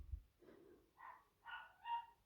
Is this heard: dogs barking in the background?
yes